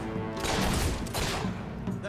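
Bursts of gunfire in Fable 3 crackle through a brief, busy game scene, with rapid shots blending into rumbling background noise at moderate loudness.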